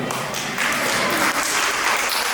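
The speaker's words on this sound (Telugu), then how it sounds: "మీరందరూ ఒకసారి గట్టిగా క్లాప్స్ కొడితే" Guests at a first birthday party clap together in a dense, steady burst of applause that holds at an even level for about two seconds, with no talking over it.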